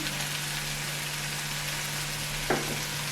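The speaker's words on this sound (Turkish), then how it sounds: "Tam yağımı ekliyorum. Ispanaklarımı soteliyorum." Spinach sautéing in oil in a pan for Korean japchae gives a steady, close sizzle, with one brief stir or clink of a utensil near the end and no voices.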